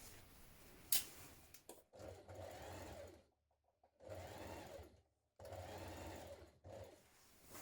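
A sewing machine zigzag-stitches elastic onto a leotard neckline in bursts of rapid, close mechanical whirring, three main runs separated by short pauses, with a brief click near the start and no speech.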